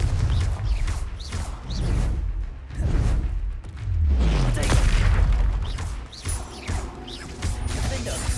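A Confringo spell in the video game Hogwarts Legacy bursts into a series of loud booming explosions with whooshing blasts, repeated over several seconds in a dense, continuous battle mix.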